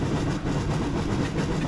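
A heavy steam train laboring up a steep grade in the Century of Steam video game gives a continuous low rumbling roll with faint rhythmic clatter, steady and fairly loud with no voices.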